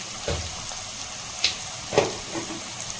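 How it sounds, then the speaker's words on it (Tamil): Onions sauté in a pan with rock salt, producing a low, even frying hiss punctuated by a few brief clicks and scrapes. "வெங்காயம் வதங்கட்டும்"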